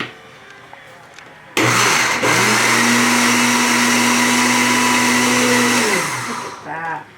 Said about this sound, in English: And then we're just going to blend this.